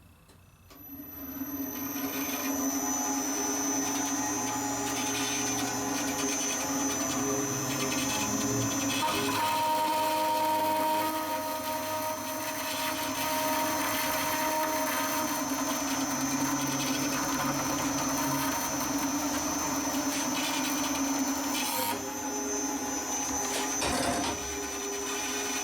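A machine cuts a clamped part on a pneumatic piston mod, with a steady whining mechanical drone and high tonal ringing that runs continuously at close range for over twenty seconds, ending in a brief clunk near the end.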